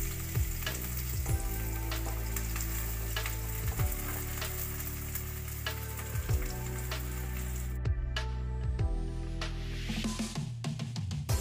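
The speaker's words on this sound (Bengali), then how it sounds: "চলুন আগে এগুলো ভালো করে ভাজা হোক" Chopped vegetables fry in mustard oil in a frying pan, a close, continuous sizzle with occasional stirring knocks from a utensil, and a brief quieter moment near the end.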